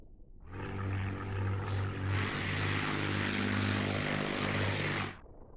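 Spitfire propeller engine in a Battle of Britain air-combat video game, a steady, loud droning hum with rich harmonics that holds for about five seconds before cutting off abruptly.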